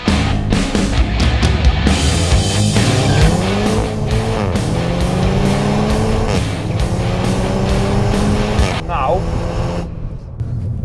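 A fast car on a test drive accelerates hard with a loud, rising engine note through repeated gear changes, steady and close throughout, with brief tire squeal near the end.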